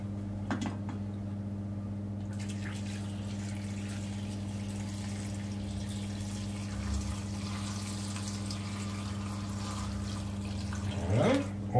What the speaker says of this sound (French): on va compléter avec un petit peu d'eau